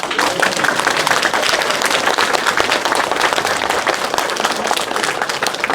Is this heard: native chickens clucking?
no